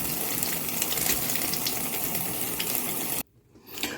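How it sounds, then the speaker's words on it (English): A kitchen tap runs in a steady rushing stream while fresh collard greens are rinsed under it. It sounds close and fairly loud, then the water cuts off abruptly, leaving near-silence and a faint handling noise. "I'm just rinsing them off, taking a look, see if I see anything funny"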